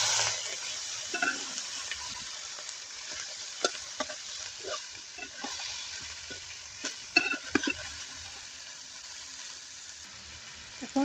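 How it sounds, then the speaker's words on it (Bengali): Pieces of boal fish sauté in a pan with half a spoon of chili flakes, a low steady sizzle broken by scattered scraping stirs and soft clinks, with no talking. "মাছগুলো দিয়ে কষিয়ে নিতে হবে।"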